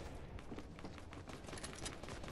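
Gunshots in Fortnite gameplay sound as a fast, rattling run of shots at moderate volume, tight and continuous across a short span, with no speech.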